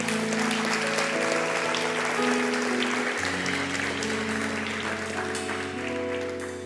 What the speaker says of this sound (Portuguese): você aplauda o Senhor Jesus, amém?